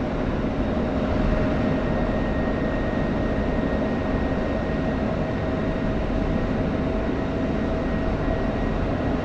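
F-16 fighter jet in flight over Syria in a flight simulator game, a steady, loud engine roar with a constant drone and faint tonal hum throughout, no talk.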